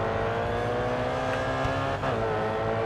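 A racing game's Audi RS 5 engine drones steadily and loudly in a Paris street race, holding a constant buzzing tone with slight rises in revs and no gaps.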